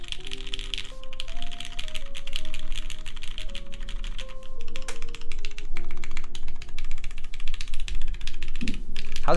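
Rapid, dense typing on an Emery65 mechanical keyboard with an aluminium plate, its case screws loosened, producing continuous close-up key clacks with faint background music underneath.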